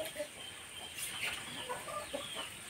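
A village chicken clucks in short, scattered bursts, moderately close, over quiet background noise.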